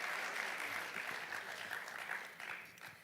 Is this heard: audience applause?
yes